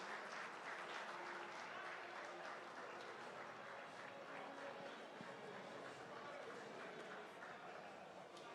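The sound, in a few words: audience applause at soccer awards ceremony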